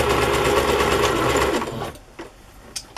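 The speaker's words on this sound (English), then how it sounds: "I just have to sew this little flappy piece of fabric down." A sewing machine stitches down a small flap of fabric on a journal tag, running in a steady close whir for about two seconds before stopping, followed by a few faint handling clicks.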